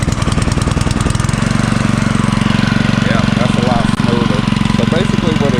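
A Ryan Lawnaire V aerator engine idles while warming up, a loud, rapid, even chugging that holds steady throughout, with someone talking faintly over it.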